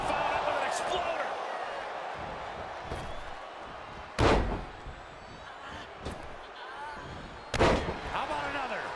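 A wrestler crashes onto the ring mat from an exploder suplex, a heavy booming slam followed by another loud thud a few seconds later, with a commentator talking over crowd noise.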